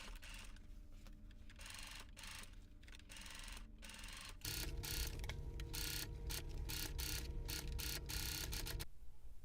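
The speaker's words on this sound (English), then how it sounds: "finish off your seam allowance with your cover stitch machine" A cover stitch machine finishes the seam allowance of a knit sewing project, making a faint, continuous mechanical whir and rattle that grows slightly busier partway through.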